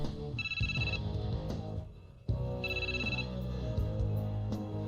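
A phone ringtone chimes in two repeated bursts, bright and fairly close, with a brief gap between rings.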